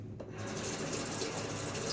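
Close, steady scraping of a Karve Chris Bradley safety razor fitted with a Feather blade gliding over lathered skin, a continuous rasping stroke with no talk.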